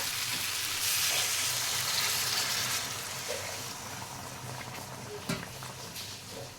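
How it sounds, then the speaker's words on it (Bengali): Water poured into a pan of cooking fish curry with drumsticks and potatoes, making a loud hissing sizzle that gradually settles into a softer bubbling simmer, with a light clink near the end and no talking. "এবার জল দিয়ে দেব।"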